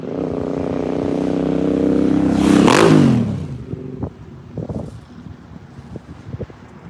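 A small motorcycle engine buzzes closer beside railroad tracks in Stuart, Florida, its pitch rising then dropping sharply as it passes nearby, fading away amid wind noise and scattered clicks.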